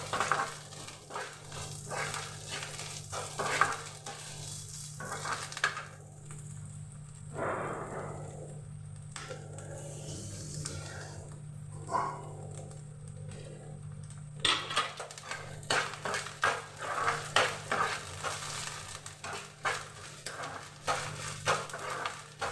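Food with grated coconut stirred and fried in a pan, a steady sizzle beneath repeated scraping and clinking of a utensil against the metal, close up, with no speech.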